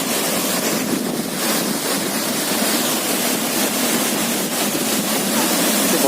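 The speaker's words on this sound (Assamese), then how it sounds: "বতাহ মাৰিছে ঠাণ্ডা" Cold wind blows hard at a waterfall in Sikkim, a dense, steady rush of wind and falling water buffeting close to the microphone with no voices.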